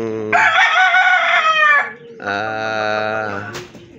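Gamecock rooster crowing twice in quick succession, loud and close, with a brief gap between the two calls.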